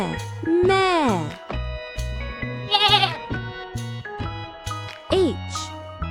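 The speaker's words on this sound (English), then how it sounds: "G for goat. Goat says meh meh." A cartoon goat bleats in a wavering, vibrato cry within a children's alphabet animation, with a couple of bleats rising over a bouncy backing tune.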